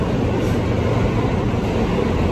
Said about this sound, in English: I don't know if it's just me, but I think this train is moving too fast.